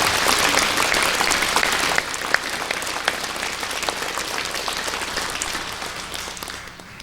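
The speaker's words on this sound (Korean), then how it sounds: "우리 박수로 다시 한번 축하하고 격려하도록 하십시오" Church congregation applauding after a social welfare day service segment, dense steady clapping that fills the space and thins out toward the end, with no talking over it.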